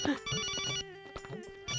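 A telephone rings with a bright, repeating electronic melody, loud and close, in short bursts with a brief pause between them.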